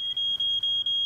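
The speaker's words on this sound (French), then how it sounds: "Ça prouve que ton détecteur de fumée fonctionne." A smoke alarm beeps in a rapid, steady series of high, piercing tones with short gaps between them, loud and close.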